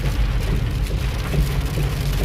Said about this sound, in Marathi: पाऊस पडायला सुद्धा लागलेला आहे